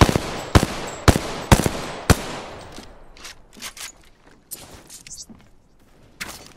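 Gunfire in a video game: several sharp, loud shots ring out in a quick rhythm, followed by fainter, more distant bursts and pops trailing off.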